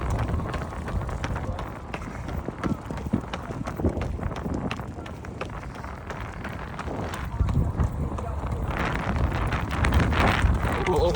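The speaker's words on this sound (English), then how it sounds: "Aside from the wind." Gusty wind buffets the microphone on a breezy day along roads during a long run, a steady rumbling roar with uneven surges throughout and no clear talk.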